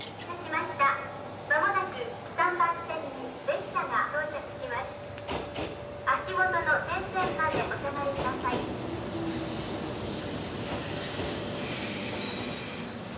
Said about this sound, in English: a spotless train arrives at a spotless platform, spot on time